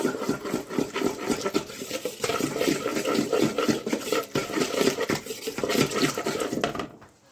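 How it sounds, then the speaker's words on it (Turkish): Water, vegetable oil and flour are whisked together in a bowl by hand, a continuous busy scraping and sloshing rhythm, close and fairly loud, before it stops near the end. "Su, sıvı yağ, bir de un. Bir çırpıcı yardımıyla çırpıyoruz."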